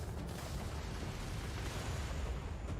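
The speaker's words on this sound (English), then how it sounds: "Missiles." Missile explosions in a space battle against the Crimson Fleet in Starfield, a dense, steady rumble of blasts and bursts filling the scene at moderate level with no talking.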